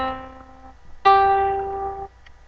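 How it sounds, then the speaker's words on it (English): Two sustained tones, likely a piano, sound a fifth from C up to G: a lower note rings and fades, then a brighter, louder note sounds and holds about a second before cutting off. No voice is heard. "The next interval we're going to talk about is a fifth, and that would be from C up to G."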